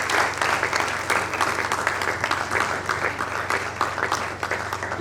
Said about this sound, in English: Please, can we keep clapping as we welcome him?